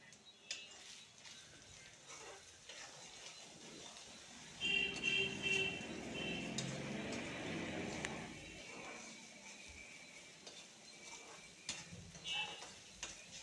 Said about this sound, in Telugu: ఉప్పు వేసుకొని బాగా కలుపుకుందాం